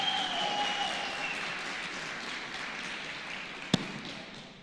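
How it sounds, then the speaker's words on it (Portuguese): Applause from a large live audience at a Portuguese-language event, a broad steady wash of clapping that carries on for several seconds, with one sharp thump near the end. "uma salva de palmas para essas 83 mil pessoas."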